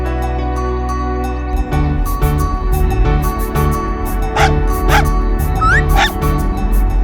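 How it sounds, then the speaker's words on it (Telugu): A puppy yips and whimpers a few times over steady music, the high whines rising briefly above the backing. "ఆ రోడ్డు మీద ఒక చిన్న కుక్క పిల్ల ఉంది"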